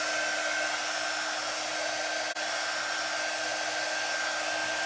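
Constant loud whoosh of a hair dryer blowing on a craft project, a steady high airy roar with only a momentary dip in the middle.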